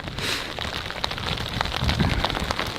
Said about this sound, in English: It's cold and it's raining.